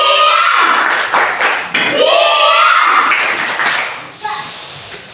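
A second-grade elementary class performs the tepuk diam clapping routine, rhythmic groups of hand claps mixed with children's voices chanting along in unison, loud and close.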